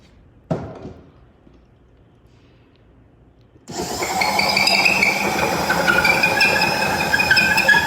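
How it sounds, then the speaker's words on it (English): A wooden staking tool cuts into wood, setting off a sustained, squeaky, scraping friction after a single sharp knock and a quiet pause; the rubbing grinds on steadily and close, much like a pencil sharpener. "Rubbing against the wood, it really can get squeaky."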